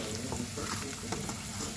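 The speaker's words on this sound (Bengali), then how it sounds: "এইভাবে আদা রসুন বাটা দিলাম, দিয়ে এবার কষাবো" Onion frying in a pan with ginger garlic paste and tomato, giving a close, continuous sizzle with irregular crackles and faint stirring scrapes.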